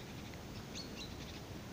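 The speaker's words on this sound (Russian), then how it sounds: "Вон, птички пищат." Birds chirp a few times near water in a quiet outdoor setting, with two or three faint, high, brief calls over a low steady background hiss.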